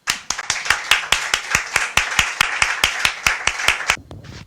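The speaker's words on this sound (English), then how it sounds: "Everyone clapped," Audience clapping at a devotional talk and reading session, a burst of about twenty sharp, evenly spaced claps in steady rhythm that stop abruptly near the end.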